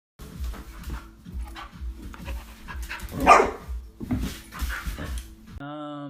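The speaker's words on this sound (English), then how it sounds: "I have a dog now, but he's kind of crazy." A pet dog barks and whimpers in a series of short rhythmic yaps and pants close by, with a brief human voice in the middle and a tonal sound at the end.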